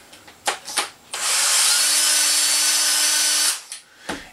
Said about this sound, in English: you can take a cordless drill, 1/2 inch, and put the trimmer in it